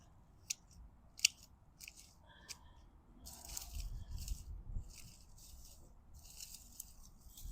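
Pruning shears snip back spent ageratum stems in a Central Texas garden bed: a few sharp, isolated clicks early on, then a run of rustling, crunchy cuts through foliage, close and fairly quiet.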